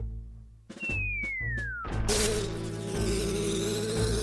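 Bees buzz in The Legend of Zelda: Majora's Mask, with short pulsing bursts and a falling whistle-like tone that give way to a louder, sustained swarm drone.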